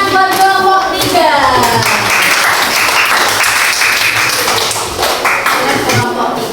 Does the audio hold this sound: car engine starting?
no